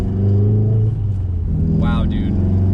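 Engine and intake of a Volkswagen Golf R under acceleration give a steady close droning rumble that builds inside the cabin, while people talk over it.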